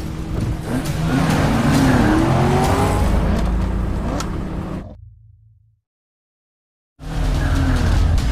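Race cars speed past with loud engine roar and tire squeal for about five seconds, fading into a low rumble and then total silence, before the loud racing sound abruptly resumes.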